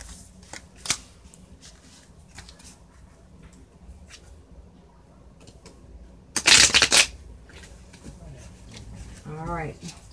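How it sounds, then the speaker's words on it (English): A short burst of tarot cards being riffle-shuffled, crisp and close, amid quiet rustling and faint background sounds. "And then what I do is one more shuffle."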